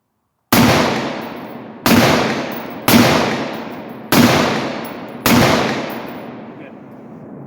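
A 7.5 inch AR rifle in 5.56 caliber fires five loud, sharp shots at a target 100 yards away. The shots come at roughly even intervals, and each blast rings out in a long, fading echo.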